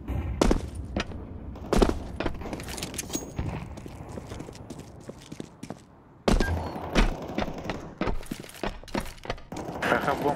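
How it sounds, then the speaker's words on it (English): Counter-Strike 2 gameplay with a flashbang grenade thrown among sharp thuds, bangs and gunfire, a loud burst near the middle, all busy and close with no clear voice. "Deploying flashbang."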